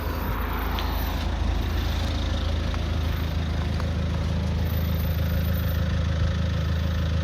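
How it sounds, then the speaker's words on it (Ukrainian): A 2010 Volvo V50 2.0 diesel engine with automatic transmission idles with a steady low rumble, evenly and continuously, close by, with no revving and no voices. "Двигун працює рівно"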